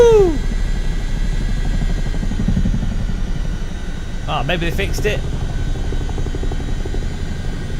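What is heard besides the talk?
helicopter rotor and engine in video game MSFS 2024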